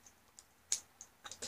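Kitchen scissors cutting a pacifier make a few quiet, sharp clicks and snips spaced irregularly, close by, with a cluster of crisper cuts near the end; no talking.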